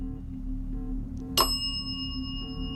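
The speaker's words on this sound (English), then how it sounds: "Thank you for ringing the bell." A single bright bell ding rings out once, its metallic tone lingering briefly over a low steady hum.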